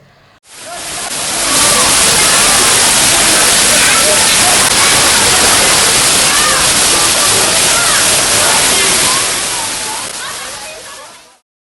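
The Curug Panjang waterfall roars as a loud, steady wash of falling water, rising in at the start and fading at the end, and nobody talks over it.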